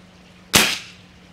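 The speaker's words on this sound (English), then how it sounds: "Let me shoot one more, see where it goes." A single sharp crack from a Swiss Arms TG-ONE .177 break-barrel air rifle fired outdoors, alone and close, with a short fading tail after the snap.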